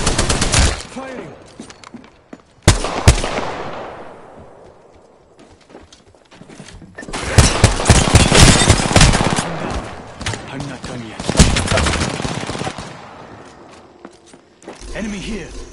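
Video game gunfire, with loud close bursts of rapid shots, sharp single cracks and echoing tails, interspersed with game voice callouts and other battle noise.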